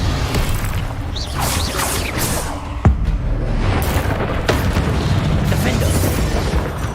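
A Confringo explosion spell from Hogwarts Legacy lands with a sharp crack and boom amid constant combat noise, close and loud, with a voice shouting over the action.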